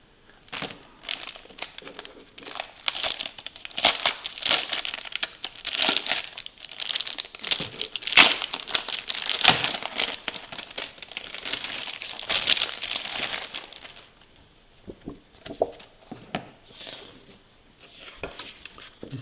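New plastic binder sleeves unpacked from a board game box, steady crackling and crinkling of thin plastic handled up close, then fading to a few lighter rustles.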